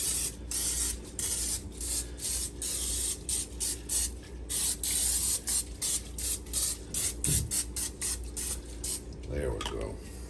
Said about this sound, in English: I got some butter flavored cooking spray.